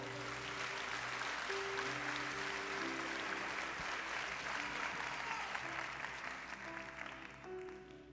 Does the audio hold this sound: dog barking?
no